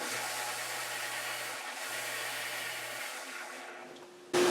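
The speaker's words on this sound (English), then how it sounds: "The other thing I do that I find this sander very handy for is when the bridge" A power sander evens the thin wing of a Martin guitar bridge with a continuous, close, airy whir that holds steady, then shifts abruptly to a louder tone just before the end.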